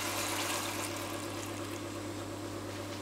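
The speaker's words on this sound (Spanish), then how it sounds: "Agua de la llave." Tap water running into a pot in a home kitchen while cooking Dominican rice, beans and meat, a steady hissing splash that holds evenly throughout over a low hum.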